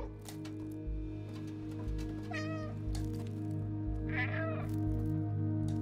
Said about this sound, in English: So I guess if you meow, you get tips where to go.